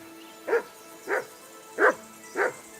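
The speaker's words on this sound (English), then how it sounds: "Get that mutt of yours to stop barking, will you?" A dog barking in the medieval video game Kingdom Come: Deliverance 2, four evenly spaced barks about half a second apart, fairly close and clear over quiet background with no talk.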